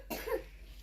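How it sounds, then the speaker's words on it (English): One short, close cough, slightly rough and throaty, breaking out of a quiet room with a low steady hum underneath. "Cover your mouth when you cough, please."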